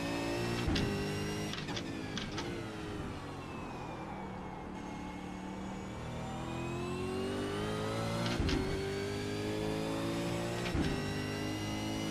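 V8 Supercar engine in the iRacing sim racing game at Imola, a sustained drone with rising and falling harmonic pitch as the motor strains, punctuated by short sharp gear-change or ping transients, steady and loud with no talk.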